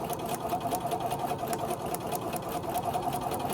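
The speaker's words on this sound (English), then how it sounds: "Now I'm going to sew a 1/4 inch seam" A sewing machine stitches a quarter-inch quilt seam, running continuously at a steady, fast rhythmic whir throughout, close and clear with no talking.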